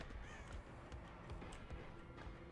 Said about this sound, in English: Could've sworn I just heard crows again.